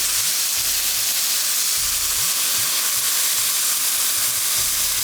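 Yogurt added to a hot pan with salt, a loud, dense, steady sizzle and hiss close by throughout, with a low rumbling hum underneath.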